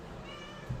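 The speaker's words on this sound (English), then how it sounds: "That was a cat, in case you can't see." A single short, faint meow from a cat against a quiet background hum.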